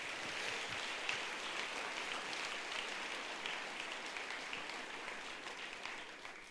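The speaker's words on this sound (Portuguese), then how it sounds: "aplauda o Senhor Jesus." Church congregation applauding in worship: a broad, even wash of many hands clapping, steady and sustained, somewhat distant and soft, with no voices standing out.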